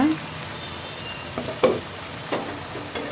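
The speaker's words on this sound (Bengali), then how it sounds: "ধনে পাতা দিয়ে একটু নাড়াচাড়া করে এখন আমি নামিয়ে নেব" Fresh coriander leaves stirred into a simmering shing fish bhuna with tomato and peas, a soft steady sizzle broken by a few spoon scrapes and clacks against the pan, fairly quiet, no voices.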